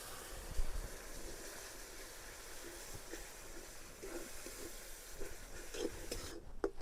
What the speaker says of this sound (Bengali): মশলাগুলা 5 থেকে 7 মিনিট ভালো করে কষিয়ে নিব।